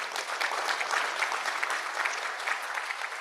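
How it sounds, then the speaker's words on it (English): Conference audience applauding panelists at a climate and food systems investment event, a steady, dense patter of many hands clapping, moderately loud and sustained with no talk. "A big round of applause for our panelists"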